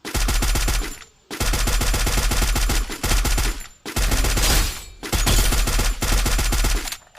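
Loud, rapid automatic gunfire from a video game rattles in long bursts, broken by brief pauses, close and continuous.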